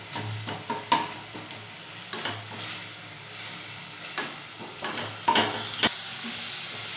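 Low sizzling of vegetables sautéing in a pan, with a spoon stirring and scraping at irregular moments, close up, no voices.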